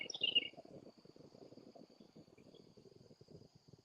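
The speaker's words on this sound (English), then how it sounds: "Hear the birds." Birds outdoors in the morning, with a quick bright chirp at the start followed by a faint, steady high trill and soft low rustling, all quiet and distant.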